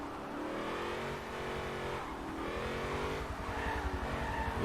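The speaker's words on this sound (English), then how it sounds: "Drifting, drifting, drifting," A 1930s-style Ford Model A Deuce Coupe drifts in Forza Motorsport 7, tires skidding and squealing continuously over a loud, revving engine drone that rises and falls, with no talk.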